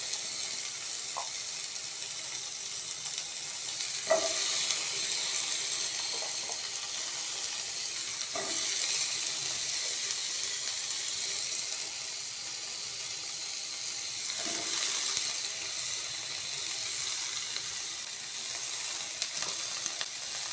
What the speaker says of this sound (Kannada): ಇದನ್ನು ಸ್ವಲ್ಪ ಎಣ್ಣೆ ಹಾಕ್ಕೊಂಡು ಹುರ್ಕೋಬೇಕು ಟೊಮೆಟೊ ಕಾಯಿ.